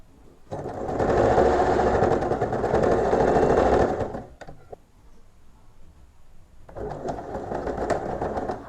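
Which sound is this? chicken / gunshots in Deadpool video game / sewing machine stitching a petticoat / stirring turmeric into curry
sewing machine stitching a petticoat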